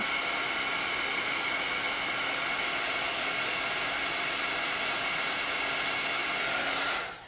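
A hair dryer runs at a steady, loud, continuous hiss while drying a freshly applied lettering transfer, then cuts off abruptly at the end.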